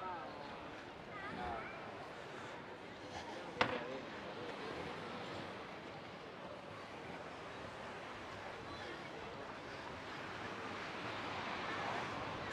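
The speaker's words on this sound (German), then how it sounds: "durch die Wellen, die schon da sind, das Unwetter, das sich ankündigt" Waves wash over a flooded sandy beach at Cala Millor, Mallorca, as a storm approaches. The surf rushes faintly and continuously under gusting wind noise, with one brief knock partway through.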